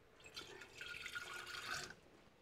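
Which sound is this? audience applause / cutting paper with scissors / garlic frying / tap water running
tap water running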